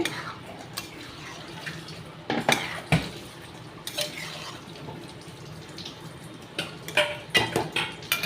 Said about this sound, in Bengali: চারটে লঙ্কা মশলাটা দিয়ে এবার কিছুক্ষণ কষাতে হবে